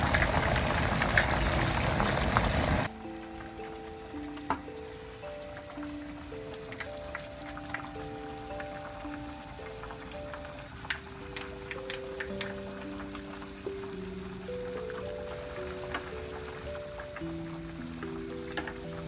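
About 1.3 liters of water boils hard in a pot for Korean beef seaweed soup, a dense bubbling rush for the first few seconds before soft music takes over.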